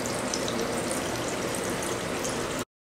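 A water fountain runs steadily as a child drinks, a continuous close rushing stream and splatter that stops abruptly near the end, with no voices.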